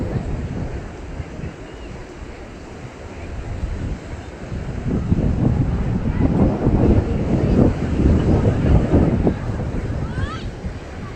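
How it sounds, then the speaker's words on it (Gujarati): Steady roaring strong wind buffets the microphone at the seashore beside a calm sea, with a low rumble of surf beneath and faint voices in the background. "મસ્ત શાંત દરિયો છે આજે અને પવન એ જોરદાર છે"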